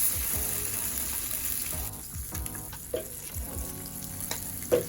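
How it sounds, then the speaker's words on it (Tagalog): Salmon fillet frying in hot cooking oil in a pan, a close, continuous crackling sizzle with occasional sharper pops and spatters. "Throw your salmon fillet in the hot pan with cooking oil."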